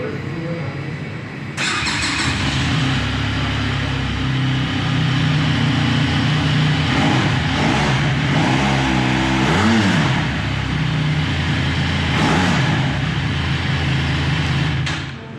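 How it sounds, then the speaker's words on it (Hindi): A 2021 Benelli TRK 502X twin-cylinder motorcycle engine fires up and settles into a loud, steady idle, then revs up and back down a few times, recorded up close. "Smooth twin cylinder exhaust sound."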